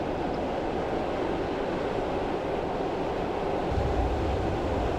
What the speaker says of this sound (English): I'm now just going to allow the train to continue to coast